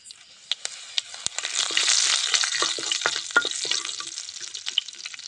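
Mustard seeds and curry leaves frying in hot oil for a tempering, with a steady close sizzle and sharp scattered pops and crackles that swell and then settle.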